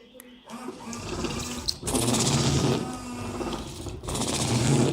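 Car windscreen washers spraying water onto the glass with the ignition on, a steady hissing wash in bursts of a few seconds each, close and fairly loud.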